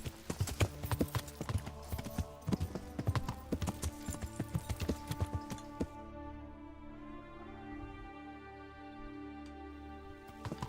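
Horse hooves clip-clopping in the medieval video game Kingdom Come: Deliverance, a quick rhythmic run of sharp hoofbeats that stops midway, leaving a quieter tonal background.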